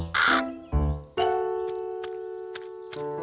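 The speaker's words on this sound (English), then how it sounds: "He's eating the apricots." A cartoon crow eating apricots gives a few short, close caws, separated by sustained tonal sounds.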